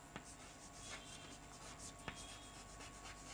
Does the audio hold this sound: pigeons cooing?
no